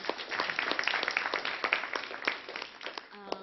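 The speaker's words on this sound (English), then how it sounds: "a huge round of applause for the Coleman" Fairly quiet applause from a lecture audience at a social impact lecture series event, a steady patter of many hands clapping with a voice entering near the end.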